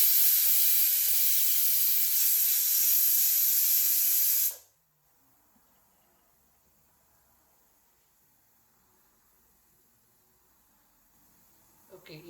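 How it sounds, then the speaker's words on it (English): A pressure cooker cooking Sri Lankan Tamil mutton gravy lets out a loud, steady, high hiss of escaping steam for about four seconds. The hiss then cuts off abruptly into near silence, with faint rustling at the end. "it has released the steam like 6 times now"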